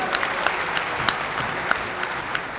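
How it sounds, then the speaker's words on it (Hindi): Steady crowd applause at a political rally in Lucknow, a dense wash of many hands clapping continuously with a few sharper claps standing out. "एक बार जोरदार तालियां आप लोग बजा दीजिए।"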